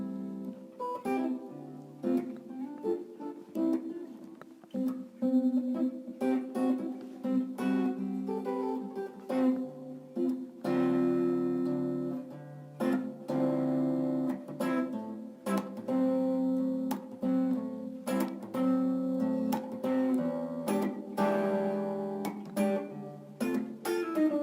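An electric blues guitar runs through a minor one-four-five chord progression, strummed chords and short licks played close and clear, with a loose, rhythmic feel and brief gaps between phrases.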